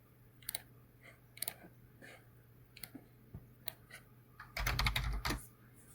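Sparse keystrokes on a computer keyboard at a command prompt, a few isolated clicks and short quick bursts, quiet and close with a low hum underneath.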